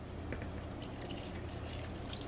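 Lukewarm water poured into a mixing bowl for a dough, a steady soft trickle and splash running throughout at close range with no talking.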